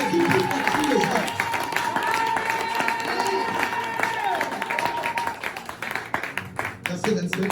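Worship audience at a church seminar clapping and cheering in praise, a dense, loud burst of applause and shouting voices that thins out toward the end.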